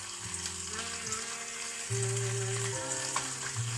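Bacon frying in a pan until crisp, a soft continuous sizzle and spatter heard fairly quietly beneath a steady humming tone that shifts pitch now and then, with no one speaking.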